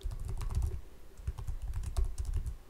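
Rapid, light clicking of computer keyboard keys as an SQL query is typed, in uneven bursts with short pauses, close and fairly quiet.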